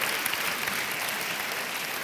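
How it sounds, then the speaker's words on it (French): Steady audience applause at a mentoring month launch ceremony, dense and even clapping throughout with no voices over it. "On les applaudit, mais ils sont aussi très timides."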